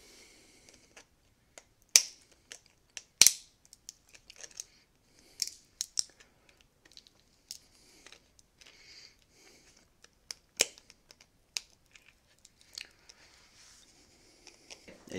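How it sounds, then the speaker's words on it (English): Sharp, dry cracks and snaps as pliers pry 3D printed support material away from a print, a few loud breaks among scattered small clicks and scrapes, close up with no talking. "It took a second for me to get my pliers underneath there, but once I did, the entire support material broke away."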